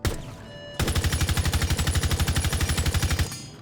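Zofia's LMG in Rainbow Six Siege fires one loud, close, sustained automatic burst of rapid, evenly spaced shots lasting about two and a half seconds, with no talk.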